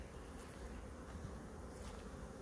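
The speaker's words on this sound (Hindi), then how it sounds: "तो मेरे हाथों के पास भी है मधुमक्खी" Honeybees swarming at the entrance of a kept hive, a dense, continuous buzzing hum from many insects close around, steady and unbroken.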